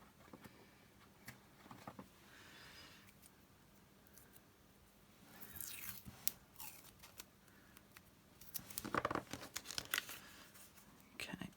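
Scissors snip through micropore surgical tape during papercraft, a few close, quiet crisp cuts with light crinkling and tearing.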